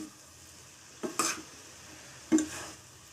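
Pasta is stirred in a pan with pepper powder, salt and cashews: two distinct scraping stir strokes over a faint, continuous sizzle.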